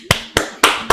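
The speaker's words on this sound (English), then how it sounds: "Let me give you the clap." Four sharp hand claps ring out one after another at an even, slightly uneven pace, each a crisp close slap with a short decay, no talking over them.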